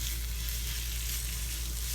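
Zucchini cooking in a pan with pesto gives a loud, continuous, even sizzle with no pauses and no talking.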